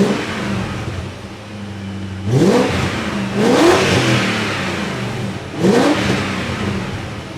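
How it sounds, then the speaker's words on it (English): BMW E39 540i engine revved three times in quick succession, each rising sweep of engine pitch followed by a settle back toward idle, close and loud with no talk. "as I rev the car"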